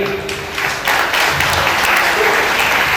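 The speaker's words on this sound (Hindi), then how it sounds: "हमारे आमदार के लिए जोरदार तालियां" Loud, dense audience applause at a thalassemia medical conference, a continuous wash of many hands clapping at close range for a few seconds, with no talking over it.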